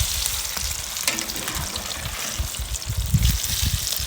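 Crappie fillets frying in a pan over a wood fire, a close, crackling sizzle with soft pops and bubbling that stays steady throughout.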